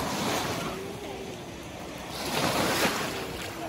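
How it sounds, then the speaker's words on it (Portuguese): Ocean waves washing ashore with a rushing swell that builds near the end, under wind buffeting the microphone. "olha o tamanho das ondas"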